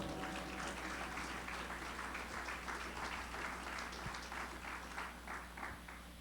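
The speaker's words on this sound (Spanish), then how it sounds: "Dele un aplauso al Señor" A church congregation claps in praise, a faint, steady patter of applause over a low background hum, distant and quiet throughout.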